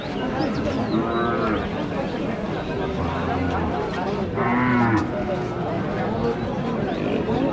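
Cattle moo several times amid a noisy livestock market crowd, low drawn-out calls rising over steady chatter and bustle.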